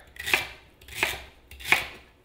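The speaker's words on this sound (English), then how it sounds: "So we're just gonna chop it up roughly again." A knife roughly chopping celery on a cutting board, three distinct evenly spaced chops with crisp crunchy attacks, close and clear with no talking.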